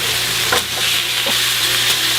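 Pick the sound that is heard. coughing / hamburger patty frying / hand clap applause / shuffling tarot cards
hamburger patty frying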